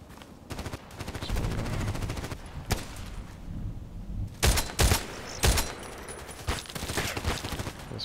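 SVD-S sniper rifle shots in a video game ring out one at a time, several sharp loud cracks spaced irregularly across the stretch, with softer rumbling gunfire between them.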